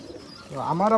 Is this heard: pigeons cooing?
yes